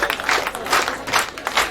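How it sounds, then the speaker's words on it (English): Audience clapping at a school prize-giving, a dense patter of many hands sustained through the whole moment, moderately loud with no voices over it. "Let us make some good practice of clapping"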